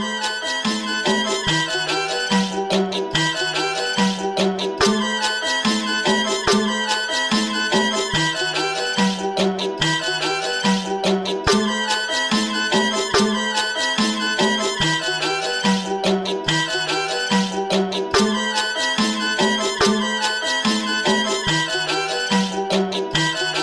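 A dry, unprocessed music sample from Spain plays on its own, a steady repeating melodic loop at moderate volume with no voices.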